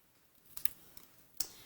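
Scissors snip through an Easter card in a quiet room, two or three faint, crisp cuts spaced apart.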